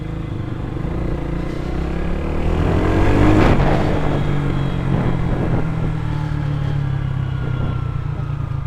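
Modified Lifan KPR 165 motorcycle ridden on a road, its engine droning loud and close. The pitch climbs as it pulls, then settles into a smooth, steady hum, with no talk.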